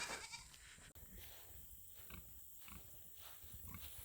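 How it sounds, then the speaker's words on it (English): Goats bleat and cry repeatedly at a distance on a homestead, hungry and wanting to be fed, several overlapping calls in a noisy outdoor setting, fairly faint. "Can you hear them goats? They're just screaming at me, wanting to be fed."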